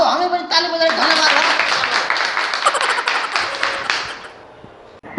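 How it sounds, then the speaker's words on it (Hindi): Audience clapping at a comedic skit set in a government school, a dense steady patter of many hands that runs for several seconds alongside voices and tonal sounds, then fades out near the end. "हमें बड़ी ताली बजाई धन्यवाद"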